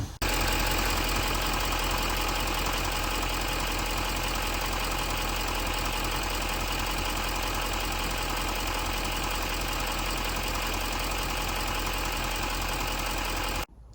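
A 6.6L Duramax diesel truck engine turns over and settles into a steady, loud, close idle with a constant clattering diesel knock, running unbroken for the whole stretch before cutting off.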